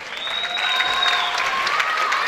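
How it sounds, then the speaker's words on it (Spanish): Audience applause greets a solo dancer at a dance showcase, a steady wash of many hands clapping that holds close and fairly loud for the whole stretch, with faint tonal crowd sounds mixed in. "Recibimos con un fuerte aplauso a Julia Clos Brito."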